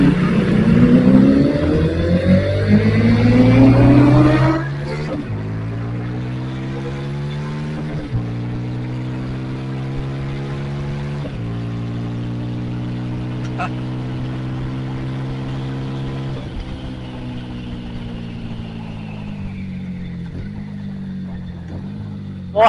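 Moto3 racing motorcycles pass on a street, a loud steady engine drone whose pitch climbs at first and then holds high and sustained for a long stretch, with no speech over it.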